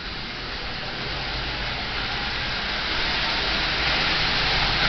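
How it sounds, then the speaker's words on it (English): A Marx 897 model locomotive, rebuilt from parts with a 6-volt motor and run on a DC controller, hauls eight Lionel cars along the outer rail, making a steady, close whirring rumble that grows slightly louder throughout. "As you see, this locomotive runs just absolutely splendidly."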